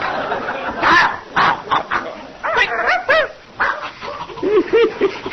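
A dog barks repeatedly on a French radio comedy programme, its short yips and barks coming in irregular bursts, some with a whimpering, whining quality, set against a lively studio background with voices.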